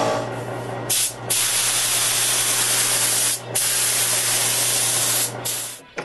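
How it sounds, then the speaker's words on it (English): Loud, close hissing of a spray gun applying thinned lacquer inside a router cabinet in long bursts, with three short pauses between passes over a low steady hum. "I mix one part lacquer with two parts thinner, and I spray inside."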